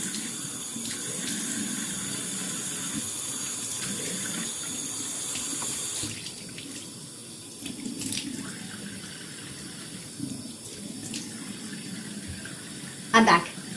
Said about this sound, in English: I'm just going to splash my face with water maybe 2-3 times